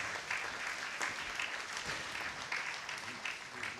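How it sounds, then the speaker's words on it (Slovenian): Applause from an audience at a craftsmen's award ceremony in Ljutomer, a continuous, fairly quiet wash of many hands clapping that holds steady throughout. "si pa zasluži naš močan aplavz"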